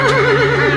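A horse whinnies in a short, steady, wavering call as a sound effect in a horror audio drama, loud and close with no talk over it.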